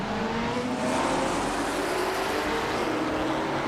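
A 1970 McLaren race car engine drones steadily in a racing video game, a loud continuous roar holding a fairly even pitch throughout with no talking.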